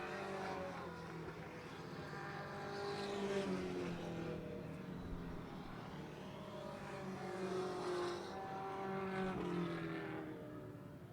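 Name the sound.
race cars on an oval track at the finish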